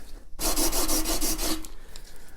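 A plane blade is rubbed back and forth on a wet sharpening stone: a steady, close, rasping scrape with rhythmic strokes lasting about a second, then it stops into quiet room tone.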